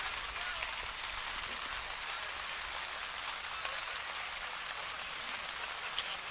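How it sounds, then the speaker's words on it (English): Steady rain falls across an outdoor high school track meet, a quiet, even hiss of drops on surfaces lasting throughout, with no thunder and no clear voices. "This rain's coming down, but thankfully no lightning or thunder yet."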